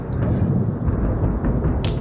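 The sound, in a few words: thunder rolling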